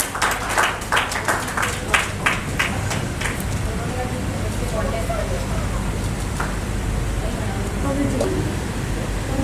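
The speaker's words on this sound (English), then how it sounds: "So please clap for him." An audience at a book release ceremony during a conference claps in a loud burst of applause that fades after a few seconds, giving way to a voice talking over a room murmur.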